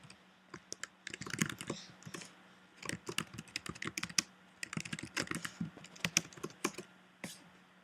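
Typing on a computer keyboard, with irregular runs of crisp, close keystrokes and brief pauses between bursts, steady and fairly quiet with no voice over it.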